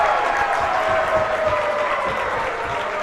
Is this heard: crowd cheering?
yes